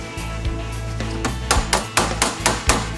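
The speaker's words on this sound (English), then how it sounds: "Make sure it's tapped on with your hammer." Hammer tapping a component of a prosthetic hand into place, a run of sharp, close metallic knocks that come faster and louder toward the end, with no talking.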